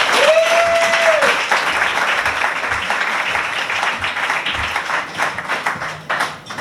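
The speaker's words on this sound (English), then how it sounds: "Everyone clap." An audience at a writers' reading applauds steadily and fairly loudly for several seconds, a dense wash of clapping that thins toward the end, with a brief tone near the start.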